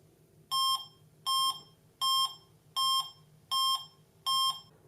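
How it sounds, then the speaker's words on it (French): The Sputnik satellite signal, generated by an Arduino and played directly through a loudspeaker, sounds as six evenly spaced short beeps in a steady rhythm over faint background hum. "vous entendrez le fameux signal audio du Spoutnik, sans passer par la radio parce qu'il arrivera directement dans le haut-parleur"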